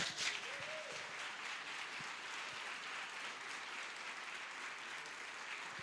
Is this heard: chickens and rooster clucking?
no